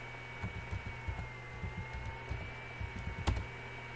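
A URL typed on a computer keyboard, soft irregular key taps in small clusters over a low steady hum, quiet and close, ending with one sharper keystroke.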